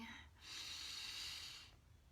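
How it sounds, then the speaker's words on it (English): One long, deep breath drawn in and released during a short stretching session, a soft airy rush close to the mic, alone and faint. "I'm just going to do a little shaking and breathing"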